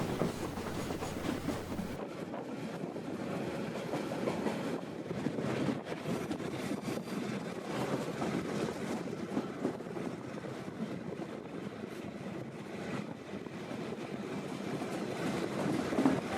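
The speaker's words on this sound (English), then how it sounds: "our train now winds its way up and over the peninsula" Continuous rumbling and rattling of a train rolling along the tracks near Dunedin, New Zealand, steady and fairly loud, with some wind buffeting and no talking.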